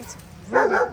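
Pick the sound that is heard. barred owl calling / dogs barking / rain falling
dogs barking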